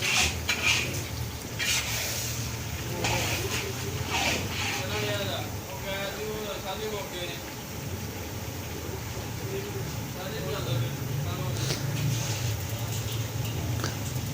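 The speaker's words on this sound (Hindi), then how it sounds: "चिकन कढ़ाई तैयार की जा रही है, वो भी कढ़ाई में चिकन कढ़ाई तैयार की जा रही है" Chicken karahi cooks in a karahi pan at an outdoor village kitchen, with metal utensils scraping and clattering against the pan and a low sizzle throughout, while someone talks over it.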